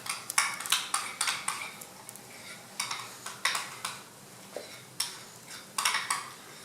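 Creole seasoning mixed in a bowl for tailgating food. A utensil taps and scrapes the bowl in a steady series of sharp, close clinks about every half second.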